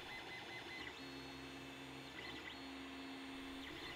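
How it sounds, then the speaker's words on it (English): A 3D printer prints plastic outer case parts with a continuous mechanical whir, its stepper motors sounding sustained tones that shift in pitch as the head moves, steady and fairly close with no talking. "the two outer case parts are made on a 3D printer"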